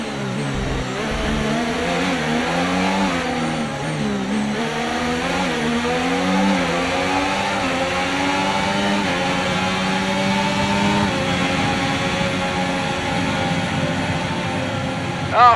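A Formula 1 car racing toward the flag at a race win, its engine a loud, continuous high-pitched wail rising and falling through gear changes without a break.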